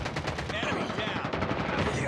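Sustained automatic gunfire in Call of Duty, a steady rapid rattle of shots close and loud, with in-game voice callouts mixed beneath.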